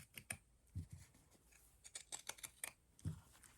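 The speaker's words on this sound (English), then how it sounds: "I'm going to use my pinking shears to cut this out" Pinking shears cut through fabric for a small ornament, making a few quiet, crisp snips and clicks at an irregular pace, heard close and faint with no talk.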